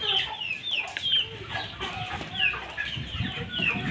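Chickens cluck steadily over a busy farmyard, with a rooster's call and chirpy calls from other birds mixed in close by.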